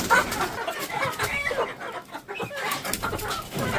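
Rooster clucking and squawking on a farm as it is caught, agitated bursts close by and repeated through the clip with light rustling around it.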